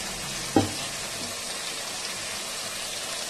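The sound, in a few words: spice paste frying and being stirred in oil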